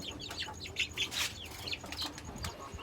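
Young desi chicks peep in thin high chirps, several birds calling in quick overlapping bursts close by over a steady low background hum, with no talk.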